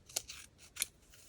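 Two crisp snips of scissors cutting through paper ephemera for a sewing-themed junk journal, each a short sharp close cut followed by softer rustling of the paper, with no talking.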